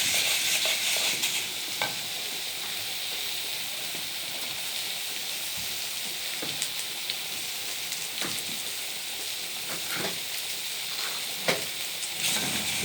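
Chard for a taro dish fries in a hot pan with a constant, close hissing sizzle and occasional sharp crackles and pops, and no talking.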